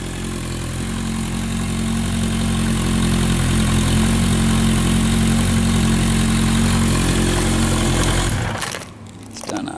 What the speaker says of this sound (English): Runs like a top. Really good engine in it.